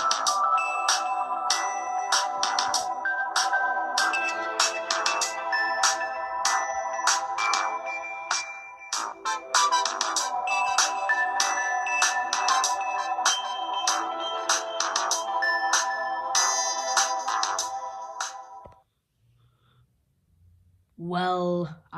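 The ringtone plays on an LG P500 Android phone, a bright layered melodic tune looping steadily for about eighteen seconds before cutting off, followed by a short murmur of voice.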